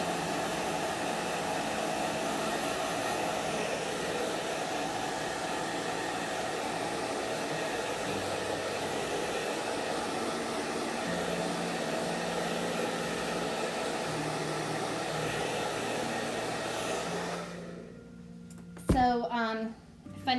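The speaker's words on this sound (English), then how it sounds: "I just have to go over here and grab my hair dryer." A hair dryer blasts shimmer frost paint on a chalkboard for Halloween decorating, a steady loud whoosh that runs for most of the time before switching off near the end, followed by a brief voice.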